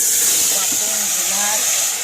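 A pressure cooker holding potatoes, green beans, peas and carrots for South Indian pav bhaji gives off a steady, loud steam hiss that fills the clip, with faint low tones underneath.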